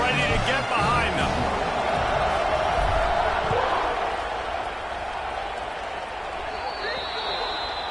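A college football stadium crowd at a Florida versus South Carolina game roars in a dense, loud wash of cheering that eases slightly toward the end, with a commentator talking over it.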